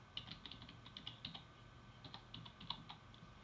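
Quiet clicking of keys on a computer keyboard as a short message is typed, irregular light taps in quick bursts, close and alone.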